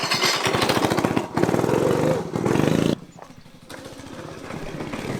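Predator 224cc budget pit bike engine running loud and close under a rider, a rough steady drone for about three seconds, then dropping off quieter and more distant.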